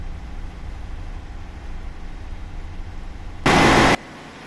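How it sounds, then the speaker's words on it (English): A Caterpillar generator engine runs at a steady idle with a constant low hum during a safety shutdown test, interrupted near the end by a brief loud burst of broadband hiss. "Okay, now guys, we start again. Now the engine is running."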